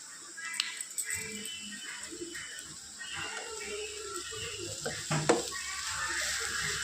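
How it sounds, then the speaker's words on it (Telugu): Onions sizzle in hot oil in a pan with occasional stirring and utensil clinks, steady frying hiss beneath brief speech. "కొద్దిగా వేయించేద్దాం."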